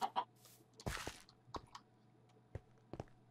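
Chickens in the video game Minecraft cluck in short, separate bursts, a few quick calls near the start followed by scattered single clucks and soft thuds, fairly faint over a quiet background hum.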